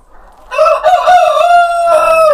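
A hen on a Greek farm gives a loud, drawn-out squawking call close by, a single sustained cry in strained bursts with no talking.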